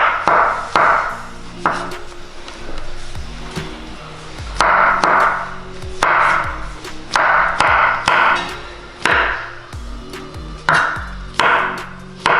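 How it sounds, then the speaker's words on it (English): A knife slices mushrooms thinly on a cutting board, producing repeated sharp taps and thuds in an irregular rhythm, close and clear, with no talking. "I prefer to cut mushrooms in a thin slice."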